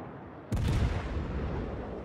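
Heavy naval gun salvo from a German battleship Roon in World of Warships: one sudden deep blast followed by a long rumbling decay, with no voices.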